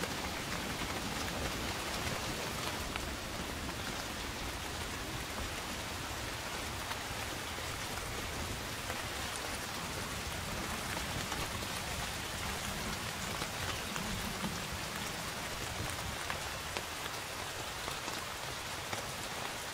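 Heavy rain pours steadily onto a rainforest canopy, a dense, constant hiss of drops on leaves with no break or rise for the whole stretch, enveloping and close.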